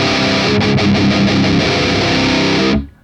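Heavily distorted electric guitar playing a dense metal riff through an ML Sound Lab Amped Burger amp plugin, loud and sustained, then cutting off abruptly near the end.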